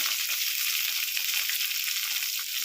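Curry leaves and onions fry in a pan for a hotel-style tomato rasam, making a constant bright hiss of oil that stays even and close throughout.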